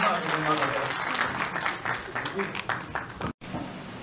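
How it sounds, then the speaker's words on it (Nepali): A Nepali Christian congregation's Christmas gathering claps in welcome for a speaker, dense steady applause filling the hall for about three seconds, broken by a brief dropout near the end, with some talk mixed in. "हामी उहाँलाई ताली बजाएर स्वागत गर्छौँ"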